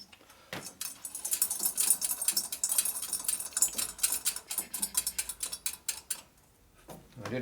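Harley Evo cylinder heads being bolted down to a work table, a long run of rapid ratcheting clicks from a hand tool, close, steady and continuous, then a short pause and a final few clicks.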